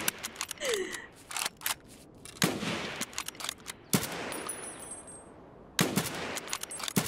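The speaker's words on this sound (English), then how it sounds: "I'm just taking little AK pop shots right now." Single AK rifle shots fired one at a time in the video game Escape From Tarkov, several sharp loud cracks spaced seconds apart with mechanical clicks and rustles between them, no talk.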